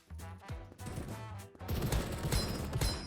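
Revolver gunfire from the Krunker.io video game, with sharp shots at first, then a denser, louder stretch of rapid firing and clattering impacts.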